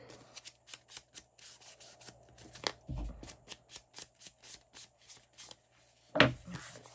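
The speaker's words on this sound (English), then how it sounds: "when you use the paper bags and stuff like this, I love the way they sound" A paper bag is handled and crinkled up close, giving a string of soft, dry rustles and crackles in an irregular rhythm, quiet overall with one louder crumple near the end.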